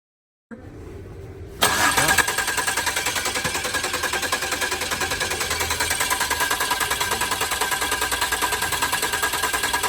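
A 2007 Ford 500 engine cranking with its crankshaft position sensor unplugged, a steady rapid starter chug starting abruptly after a brief lower hum and continuing loud and even to the end, with no voice.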